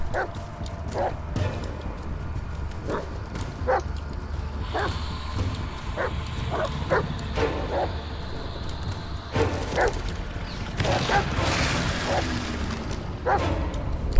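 A dog in the horror game Blair Witch barking repeatedly in short, spaced yips and woofs over a low eerie ambient hum, moderately close, with some brief whimpers and a louder burst near the end.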